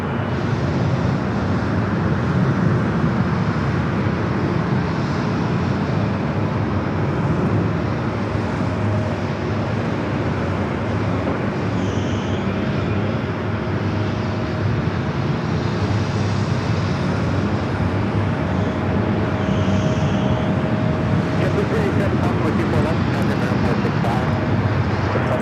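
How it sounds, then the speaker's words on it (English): An airliner bound for Minneapolis rolls down runway 24 left at LAX, its jet engines producing a broad, steady roar with wind buffeting on the microphone, while a voice talks over it. "Flight to Minneapolis now rolling down to 24 left."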